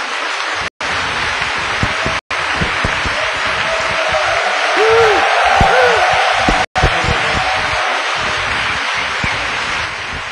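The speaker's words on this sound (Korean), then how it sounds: "다시 한번 우리 뜨거운 박수로 우리 환영하도록 하겠습니다" Church audience applauding to welcome speakers to the stage, a dense, continuous patter of clapping with a brief tonal sound in the middle, loud and close, with a few abrupt cuts.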